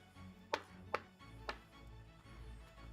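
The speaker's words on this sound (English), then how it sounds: "make sure our garlic is nice and finely minced" A knife mincing garlic on a cutting board lands three sharp, close chops spaced about half a second apart over a low background hum.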